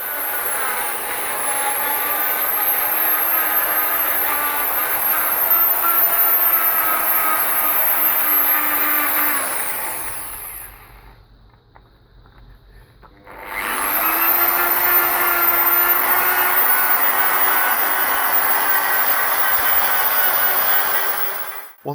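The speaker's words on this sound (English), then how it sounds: "Ensure all the corners and edges of the headlight lens get a good polish too." Steady machine whir of a polishing tool working Mothers polish over a car headlight lens, loud and continuous, stopping for a few seconds midway before resuming at the same pitch.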